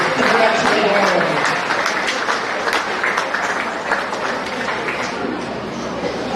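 Crowd applause at a county fair beef show for the champions, dense steady clapping from many hands with murmured chatter and voices mixed in, gradually easing.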